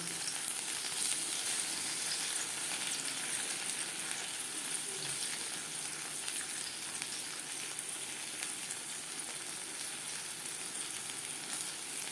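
Eggplant slices fry in oil with a loud, continuous hissing sizzle that holds steady throughout, resembling heavy rain.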